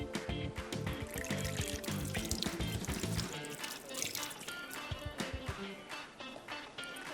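Water from a tap runs and splashes as a spoon is rinsed in a home kitchen, a steady pouring stream with small clinks, quiet and close.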